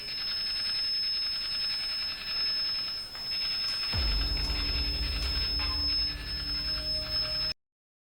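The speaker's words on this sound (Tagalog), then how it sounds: "medyo nakakatakot nga pala yung tunog ng Nasa SB7" SB7 spirit box sweeping through radio stations during a night exploration, giving a continuous hiss with a high steady tone, then a sudden low buzzing drone that cuts in halfway and runs until the sound stops abruptly.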